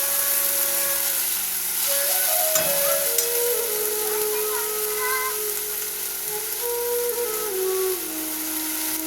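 Spices and onion-garlic paste frying in a pan, giving a loud continuous sizzle and hiss with occasional scrapes and clinks, without any talking.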